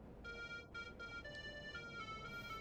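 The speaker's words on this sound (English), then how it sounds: "You heard that melody a lot at crossroads, to let the blind know the light had changed." A crosswalk signal for the blind, from a video game, plays a simple electronic chime melody in a repeating sequence of beeping tones, faint and distant over a low hiss.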